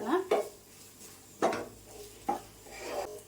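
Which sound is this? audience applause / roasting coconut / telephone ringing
roasting coconut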